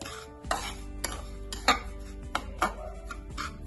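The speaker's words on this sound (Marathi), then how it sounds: "तुपामध्ये रवा छान भाजून घ्यायचा" Semolina roasting in ghee for traditional jaggery-coconut modak, stirred with a metal spoon that scrapes and clinks against the pan in several distinct strokes, close up over a low steady hum, no talking.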